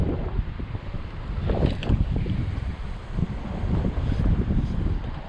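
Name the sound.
wind blowing on a beach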